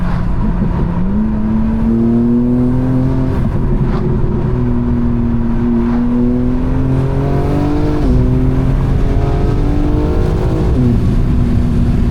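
BMW M4 Competition with a loud exhaust while driving, a deep close engine drone that climbs and falls through gear changes, rising in pitch, then dropping and climbing again, with no talking.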